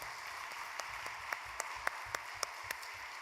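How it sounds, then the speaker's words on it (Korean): Congregation applauding after a guest professor's special lecture at a church Wednesday service, a fairly soft but continuous wash of clapping with a few sharper individual claps standing out near the front. "황지영 교수님께 다시 한번 박수 부탁드립니다"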